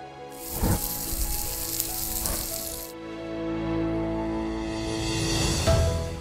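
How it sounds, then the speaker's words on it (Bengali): Chicken kebabs on a camping barbecue sizzle loudly as they are flipped, with bursts of hissing between quieter crackling and turning sounds close by. "এদিকে ইমন ভাই চেষ্টা করছে কাবাবগুলো এক পাশ থেকে অন্য পাশে উল্টিয়ে দিতে, যেন প্রতিটি অংশ সমানভাবে রান্না হয়।"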